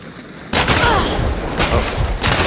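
Loud gunshots crack out in Hunt: Showdown, two or three heavy booming reports about a second apart, each with a rolling echo tail, set against a dense background rumble.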